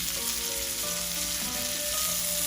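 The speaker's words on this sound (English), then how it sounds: "Just gonna keep on frying this really quick." Steak sizzling in melted butter in a hot pan, a dense continuous crackle and spitting that holds steady throughout with no talking.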